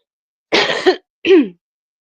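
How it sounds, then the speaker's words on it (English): Two harsh, raspy coughs close to the microphone, the first longer and rougher, followed by a shorter second one after a brief pause. "smoker's cough"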